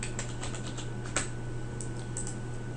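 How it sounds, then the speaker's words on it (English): Keys on a computer keyboard click in quick, faint taps with an irregular rhythm, while a low hum runs steadily underneath. "I want to type in capacity."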